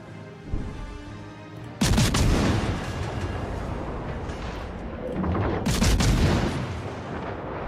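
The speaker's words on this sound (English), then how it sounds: "Concentrate fire on the enemy warship." Heavy gunfire and booming cannon blasts in a naval battle video game, aimed at an enemy warship, arriving in two loud sustained volleys with rumbling explosions and no voices.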